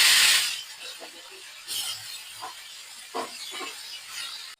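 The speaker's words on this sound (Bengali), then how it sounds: "এখন কালি জিরা ফোড়ন দিলাম, দিয়ে দিব টমেটো" Kalo jeera seeds and tomato hit hot oil in a pan after pabda fish were fried, opening with a loud hissing sizzle that settles into a softer crackle with scattered pops.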